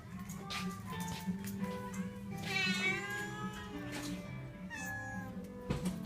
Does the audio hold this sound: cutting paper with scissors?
no